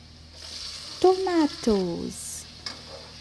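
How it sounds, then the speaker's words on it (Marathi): Onion frying in a pan for veg pulao gives a soft, steady sizzle with stirring, broken by a few short tonal vocal sounds near the middle. "मस्तपैकी त्याला कलर चेंज होईपर्यंत करायचं आहे फ्राय"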